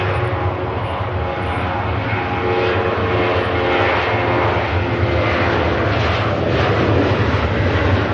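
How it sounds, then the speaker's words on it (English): Ryanair jet departing Manchester Airport, a loud, steady engine roar that holds throughout, broad and sustained with no voices. "Ryanair departs"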